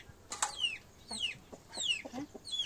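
A desi gavran hen clucks softly at a farm setting, a few short clucks and squawks mixed with faint chirps from nearby birds, quiet and close with no talk.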